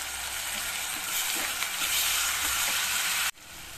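Ginger garlic paste added to onions frying in a pan for jackfruit seed masala gravy, producing a loud dense hiss and sizzle that cuts off abruptly near the end, leaving a quieter sizzle, no talking.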